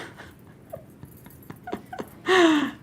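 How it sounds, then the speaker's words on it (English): A dog outside whines and yips in short, scattered cries, then gives one loud, sustained bark near the end. "Let me go get that barking dog outside."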